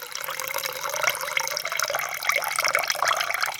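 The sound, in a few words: washing and draining flattened rice (aval) in water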